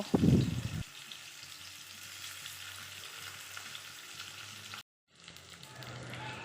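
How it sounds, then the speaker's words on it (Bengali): Soya chaap pieces frying in hot oil in a wok, a steady close sizzle running throughout after a brief louder burst at the start, with a short cut to silence before the sizzling resumes. "কড়াইতে তেল দিয়ে সয়া চপগুলিকে লাল করে ভেজে নেব"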